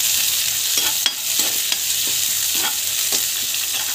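Onions and chillies sauté in hot oil with mustard seeds and cumin, giving a steady close sizzle broken by repeated scraping stirs of a spoon against the pan, with no talking.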